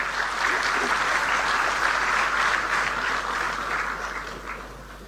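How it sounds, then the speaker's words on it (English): Audience applause at the inauguration of a quantum reference facility, a large crowd clapping steadily and densely, loud and sustained before gradually fading toward the end. "A huge round of applause."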